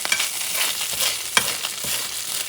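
Salmon skin scraped and stirred in a cast iron pan with sunflower oil, a run of harsh metallic scrapes and sizzling crackle, close and fairly loud, with one sharp clink partway through and no talking.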